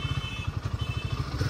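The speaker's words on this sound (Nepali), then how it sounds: "अब चाहिँ भनेको बाइक चट्ट अब साथीको हल्का चलाएर आयो" A new Royal Enfield 452 cc motorcycle is ridden up, its engine a low, steady, pulsing thump heard close and fairly quiet for a brief moment, with no talk.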